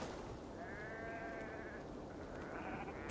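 Sheep bleating in the Assassin's Creed Valhalla video game, a drawn-out wavering bleat over a steady ambient game background, with no talking.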